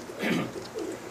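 Pakistani Rami pigeons coo in a short, soft, low burble, a couple of rounded murmurs close by with no voices.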